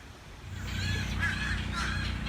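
Birds give goose-like honking calls, two or three loud, nasal honks in quick succession that rise over a soft background rumble.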